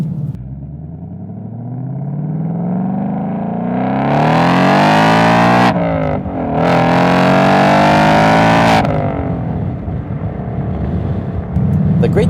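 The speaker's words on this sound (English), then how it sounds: "All the music you need is coming out from the exhaust." A 2019 Ford Mustang Bullitt roars loudly and close while driving, its exhaust note climbing through the revs with sharp breaks at gear changes before settling back to a lower rumble.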